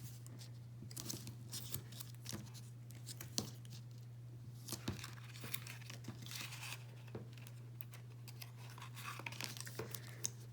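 Tape pulled off a roll and pressed onto the paper flaps of a door hanger gift card holder, giving faint, close tearing and crinkling bursts scattered over a steady low electrical hum.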